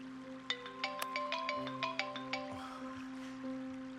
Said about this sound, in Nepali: मेरो फोन आयो।